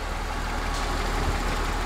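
The 2.3-liter California emissions engine of a 1998 Honda Accord with automatic transmission runs steadily at idle, a close, continuous low rumble with an even rhythmic pulse and no talk.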